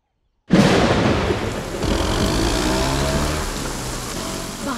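Heavy rain and rolling thunder in a film scene burst in after a brief silence, then settle into a loud, steady downpour roar.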